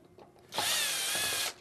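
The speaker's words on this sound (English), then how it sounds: "This is actually a thin Phillips screwdriver and a cordless drill" A cordless drill fitted with a thin Phillips bit backs out a screw, heard as a loud, steady whir of about one second, with a few quiet knocks before it starts.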